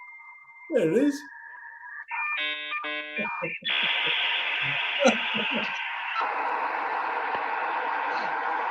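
Dial-up internet modem connection sound with dialing tones followed by screeching handshake noise and a sustained hiss, loud and continuous, with brief talking over the start.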